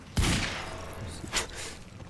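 Gunfire from the video game Quantum Break: a loud shot or short burst at the start, then a second sharp report about a second later, with a ringing tail between.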